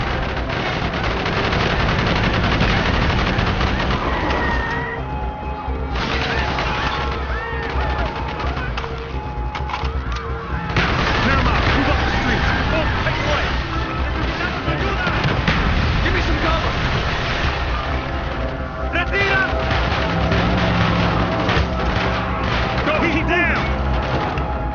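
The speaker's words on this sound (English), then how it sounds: "Bowman, Carlos, lay down cover and fire" Street battle in Call of Duty: Black Ops, with dense machine-gun bursts, single shots and crashing impacts going on almost nonstop, loud and close, while voices call out over the fighting.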